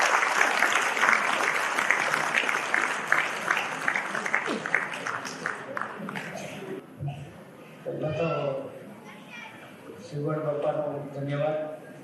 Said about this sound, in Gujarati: હવે આપણે તાળીઓથી ગગડાવીને વેલકમ કરીએ